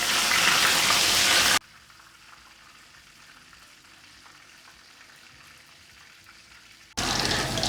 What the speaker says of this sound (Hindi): इसी तरह बाकी चिकन जो है वो मैं फ्राई कर लूँगी।